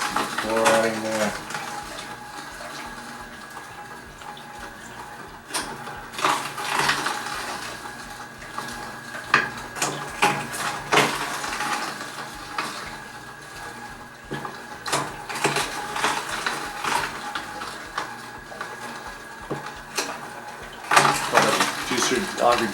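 Omega VSJ843 vertical slow juicer auger grabbing and crushing a whole carrot, with irregular grinding, cracking and rattling bursts close up, running under intermittent talk.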